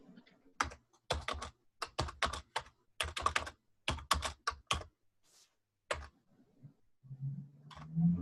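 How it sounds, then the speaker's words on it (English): Someone types on a computer keyboard during an online meeting, fast close clicky bursts of keystrokes in several runs with short pauses, followed by a low murmur of background noise at the end. "Could we mute who's ever typing?"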